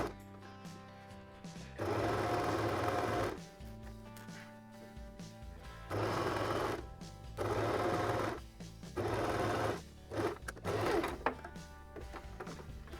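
A sewing machine stitches an invisible zipper in four separate bursts of fast, steady mechanical whirring, with short quiet pauses between runs, close by and with no talk.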